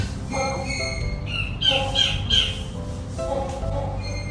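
A peafowl calls at a zoo with a few sharp, loud squawks in quick succession over a busy outdoor background of other birds.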